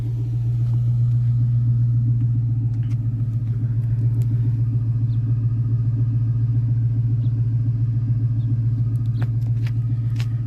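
An Infiniti M45 with a VK45DE V8 idles steadily through a blast pipe exhaust, a loud, close, deep burbling rumble with an even pulse throughout; no talking.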